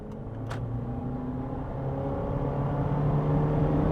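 A 2023 Honda HR-V small crossover accelerates at half throttle, its engine note a steady, gradually rising drone that swells slightly louder over a few seconds, heard from inside with no voices.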